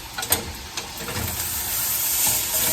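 Butter and a little margarine sizzling and hissing in a hot pan for French toast, a steady close frying hiss that builds after a few soft clatters at the start.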